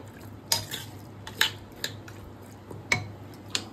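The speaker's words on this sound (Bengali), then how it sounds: "সমস্ত মাংসের মধ্যে দই, নুন সমস্ত যেন ভালোভাবে মিশে যায়" Mutton being stirred by hand with yogurt and salt in a metal pot, a few distinct clinks and scrapes of a spoon against the pot at irregular intervals, close and moderately quiet.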